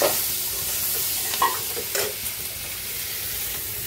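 Capsicum and onion cook in a pan with a steady sizzle, while a utensil stirs and scrapes through them in a few short, sharper strokes. No voices are heard.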